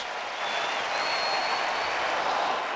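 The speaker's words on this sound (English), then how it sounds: "here comes the crowd to their feet" A baseball stadium crowd rises to its feet, cheering and applauding in a steady, loud roar from start to finish after a long scoreless streak ends.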